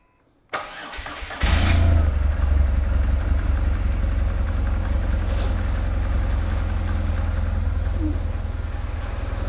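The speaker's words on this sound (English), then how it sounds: "run the bike for a short period of time and check for any leaks" A BMW R1200 GS motorcycle engine cranks and fires up after an oil and filter change, then settles into a steady, loud idle that runs on without talk.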